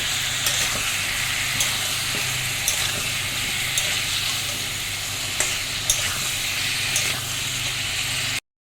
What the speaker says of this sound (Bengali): টমেটোগুলো দিয়ে দিলাম, টমেটোগুলো দিয়ে নুন দিয়েছি একটু, টমেটোগুলো ভাজা হয়ে গেলে তবে আদা রসুন দেবো।